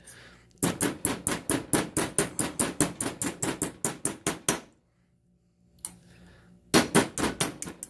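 A body and fender hammer strikes bent metal against a dolly in a steady run of sharp, close blows, roughly two per second, then pauses for several seconds before a second burst of hammering resumes.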